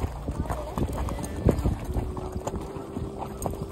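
Horses moving out into a large open field, hooves thudding in an irregular clip-clop with wind buffeting the microphone; a voice talks over the scene.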